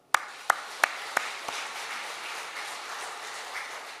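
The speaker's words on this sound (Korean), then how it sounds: "박수하겠습니다." Church congregation applauding, starting with several sharp distinct claps and then blending into steady, moderate-volume applause.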